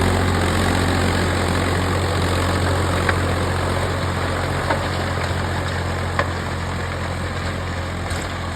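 A Swaraj 744 4x4 tractor engine running steadily under load on a farm field, with a loud constant low rumble, vibration and a few faint clicks.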